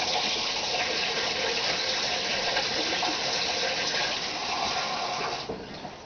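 Ice cold water running from a kitchen tap, a steady close rushing gush that holds strongly and then tapers off as the flow is cut near the end.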